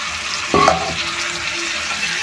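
Food frying in a pan with ginger and garlic paste is stirred, giving a loud, close sizzle with a sharp scrape of the spoon early on, the hiss continuing steadily to the end.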